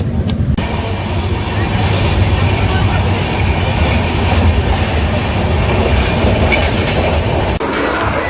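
A train rumbles and clatters continuously at Bhubaneswar railway station in India, a loud, steady rolling noise of wheels on track lasting throughout, with faint wheel squeal near the end.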